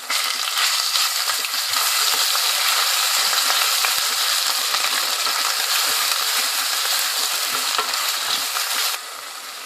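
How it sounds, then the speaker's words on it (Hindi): Loud, steady sizzling of onion, tomato paste and ginger-garlic paste frying in a pan, with occasional stirring scrapes, continuous throughout and close by. "ये प्याज ब्राउन हल्का हो गया और अब मैंने इसमें टमाटर का पेस्ट डाल दिया"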